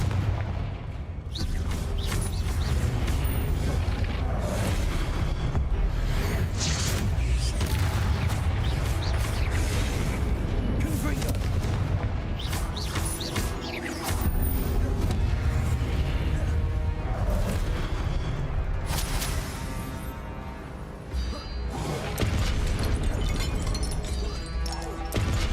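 Repeated Confringo blasting-spell explosions in Hogwarts Legacy, loud and dense booms and crashes thundering continuously through a busy, cluttered game mix with no voices.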